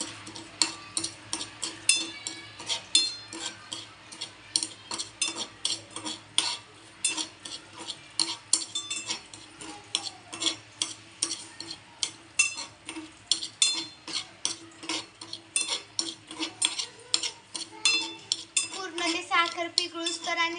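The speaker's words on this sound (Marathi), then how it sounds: "त्याच्यानंतर त्याला हलवत राहायचं मिक्स होईपर्यंत पूर्ण." A spoon stirs sugar and tea leaves in a pan on a medium-high gas flame, making rapid rhythmic clinks and scrapes against the metal, steady and continuous, close up with no voices.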